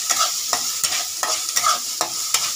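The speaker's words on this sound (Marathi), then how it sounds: "आता हा मसाला फ्राय करून घेते" Mutton masala with black chili powder frying in oil, a bright continuous sizzle broken by regular scraping strokes of a spoon stirring the pan, close and clear with no talking.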